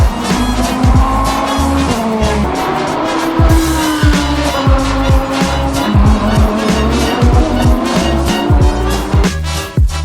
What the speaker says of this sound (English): as you can hear, the cars are going around and around in circles